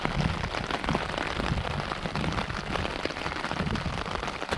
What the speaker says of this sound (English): We're just chilling under the tarp, listening to the rain